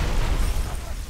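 Grenade blast in Halo Reach on a Legendary winter mission, a deep booming explosion with a rumbling tail lasting about a second, close and loud.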